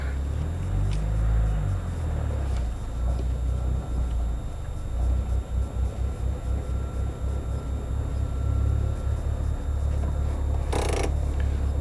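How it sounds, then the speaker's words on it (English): A car with a 2.4L stroker engine, a Mitsubishi Evo, idles with a loud, deep, steady rumble that fills the whole stretch, with a faint hiss near the end. "This car's so loud, it's difficult to conduct business at a bank or drive-through"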